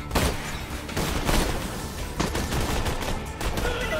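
Rapid gunfire in the shooter game Borderlands 2 during a fight with snipers, a dense, continuous stream of overlapping shots and booms at moderate level.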